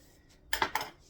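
A few sharp metallic clinks and clatters of a frying pan as year-old sausage is put in to cook, a short cluster of knocks against quiet.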